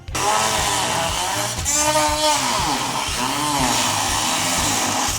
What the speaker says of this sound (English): So we broke out the Dremel and got to work on it.